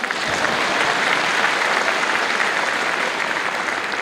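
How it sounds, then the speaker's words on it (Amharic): Dense, steady applause from a sermon audience fills the whole stretch, loud and continuous with no pauses. "ኧረ በደንብ አጨብጭቡ"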